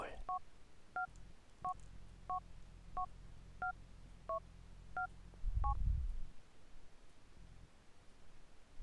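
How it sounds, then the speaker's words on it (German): Phone keypad dialing tones in the video game GTA IV: about nine short evenly spaced beeps over a low steady hum, followed by a brief rumble. "Ein bisschen Tasten auf dem Telefon drücken."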